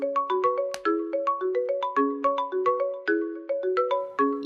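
A phone ringtone for an incoming call, a bright repeating electronic melody of quick pitched notes in a steady looping pattern, clear and prominent with no speech.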